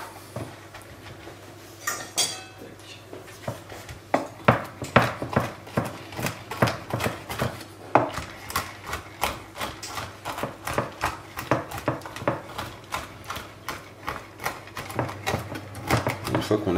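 Pistachios are roughly chopped for a chocolate cranberry cake: a long, steady run of close knife strikes on a board, rapid and fairly even in rhythm, with a few pauses.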